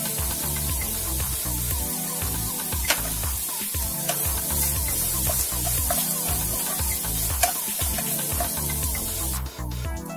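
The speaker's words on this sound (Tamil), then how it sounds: "நல்லா வதக்கி விட்டுக்கோங்க" Onions sautéed with a pinch of salt in a pan for a traditional cauliflower dish: a sizzling hiss broken by a steady rhythm of scraping stirs, close and fairly loud.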